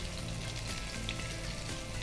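Chopped onions fry in a hot pan for a pumpkin soup, a steady, dense sizzle that is close and moderately soft, with no talking.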